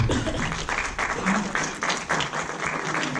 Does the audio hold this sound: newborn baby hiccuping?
no